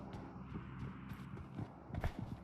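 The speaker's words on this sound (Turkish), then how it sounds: "Bir ayak sesi duyuyorum ama." Quick, faint footsteps in PUBG Mobile, a steady patter of steps running at a distance, quiet and low in the mix without talk.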